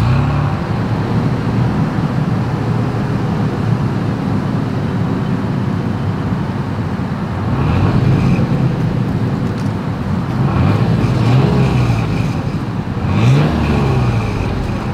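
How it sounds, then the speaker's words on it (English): Exhaust of a 2022 Toyota 4Runner, a steady low engine rumble heard near and loud, with a couple of brief rises in revs toward the end and no talking. "here is that exhaust clip"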